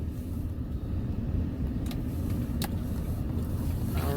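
A car driving on a rural road, with a steady low engine rumble and road noise throughout and a couple of faint clicks, no talking.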